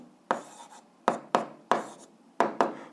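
Pen strokes on paper come in short scratchy bursts, about six quick strokes spread unevenly, close and fairly crisp against a quiet room.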